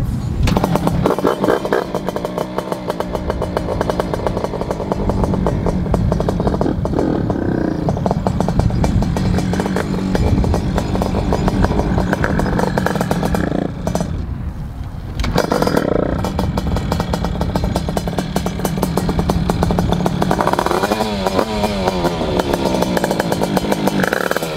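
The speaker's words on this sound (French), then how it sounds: "donc voilà, c'est parti, on va la démarrer et on va voir comment ça tourne" Heavily tuned 50cc moped engine with about 30 hp starting and revving, a loud, raspy two-stroke buzz close by that holds steady with brief dips and surges for over twenty seconds.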